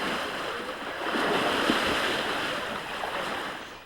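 River water rushes in midstream during a water practice, with people trying to keep their footing in the current. A dense, steady hiss of flowing water with gusty wind buffeting, fairly close and with no voices.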